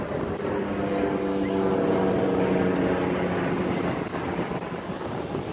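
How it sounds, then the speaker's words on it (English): A propeller airplane drones overhead near an airfield, a steady, moderately loud engine hum with a faint tonal whine, heard over wind and road noise during a bike ride. "The plane."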